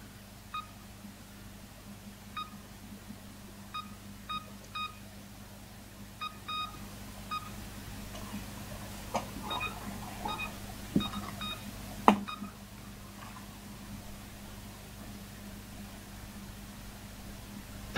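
Telephone keypad tones sound in short, evenly spaced bursts of beeps, faint against a constant hiss and hum, with a few louder clicks and knocks later on and no talking.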